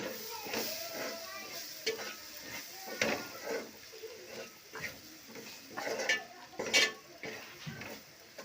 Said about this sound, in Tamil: நல்லா கிளறி விடணும்.